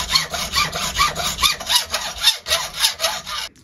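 A hand saw cuts through a piece of brass angle in a model engineering workshop, rasping in a steady rhythm of about a dozen even back-and-forth strokes, close and clear with no talk.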